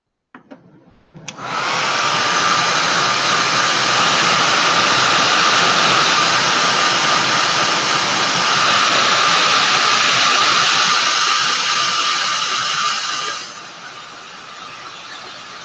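A hair dryer blows steadily for about twelve seconds while drying fresh red paint, with a strong whine and even airflow roar that drop off near the end.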